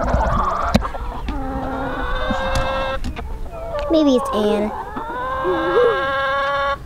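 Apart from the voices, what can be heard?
chickens clucking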